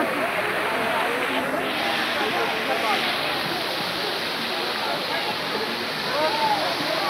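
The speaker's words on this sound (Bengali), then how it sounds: "জলের সাউন্ডটা দেখো।" Fountain water splashes steadily at Eco Park in Kolkata, a loud, continuous outdoor rush that fills the whole stretch without a break.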